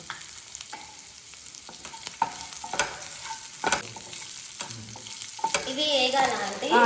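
Coriander seeds and cumin fry in oil with green chillies in a pan, a soft, low sizzle broken by sharp clicks and scrapes of a spoon stirring, growing louder toward the end.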